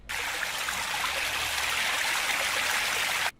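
Steady flowing water like a small stream or trickle, added as a sound effect in video editing, running continuously at even loudness from start to finish before cutting off abruptly.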